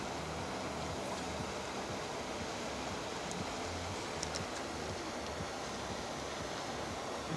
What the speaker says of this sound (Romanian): Ce adie vânt.